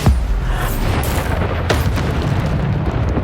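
Bombarda explosion spell going off in Hogwarts Legacy: a loud booming blast at the start, then sustained rumbling impact noise with another burst around the middle.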